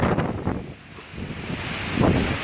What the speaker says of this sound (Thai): ลมแรงมากเลยของคณะครุศาสตร์คณะพุทธศาสตร์